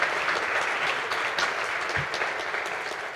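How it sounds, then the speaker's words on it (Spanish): Warm, sustained applause from an audience at a literary event welcoming the speaker Víctor Manuel Mendiola, many hands clapping in an even, dense roar that continues throughout without any voices. "creo que es suficiente para recibir con un caluroso aplauso a Víctor Manuel"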